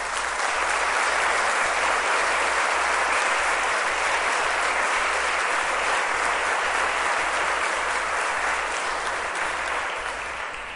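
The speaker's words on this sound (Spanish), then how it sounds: "pediría un enorme aplauso" A large audience at a liberal society dinner bursts into sustained, enormous applause, a dense even roar of clapping that holds for about ten seconds before easing slightly at the end.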